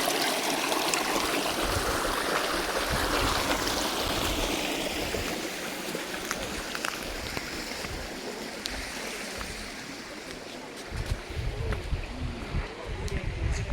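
Water rushes steadily down Kumbakkarai waterfall in Theni, a dense, continuous roar of flowing water close by that keeps up without pause from start to finish.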